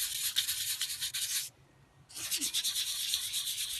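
Hand sanding paint off an alloy wheel rim in a circular motion: a loud, steady abrasive scrubbing close by, broken by a brief pause before the rasping resumes.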